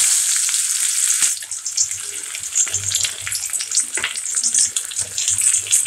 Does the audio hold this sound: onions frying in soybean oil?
yes